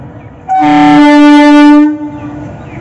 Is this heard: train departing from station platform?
yes